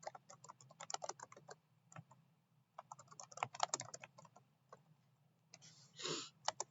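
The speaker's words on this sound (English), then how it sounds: "I'm going to type in Clovis." Quiet, close keystrokes tap on a computer keyboard in irregular bursts, with short pauses between clusters and a brief rustle near the end.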